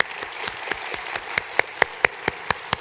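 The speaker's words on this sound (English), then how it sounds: "a big round of applause for all of you" Sparse, evenly spaced hand claps from a small audience at a student space research conference, a dozen sharp claps in a steady rhythm with no talking.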